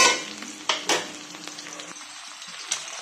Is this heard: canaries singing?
no